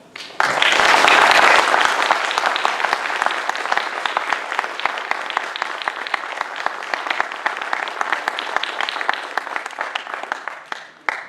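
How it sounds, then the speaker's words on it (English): Sustained applause from a crowd at a state senate debate, loud at first and then steady, with individual claps audible throughout before it tapers off at the end. "Now, you may applaud."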